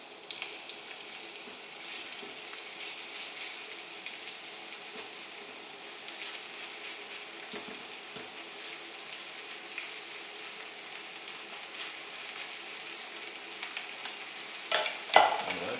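A piece of onion sizzles in hot oil in a pan, a soft, steady crackle that goes on without a break, fairly quiet and close, with a few louder pops near the end and no voices.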